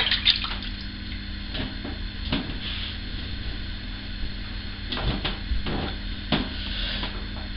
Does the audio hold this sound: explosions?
no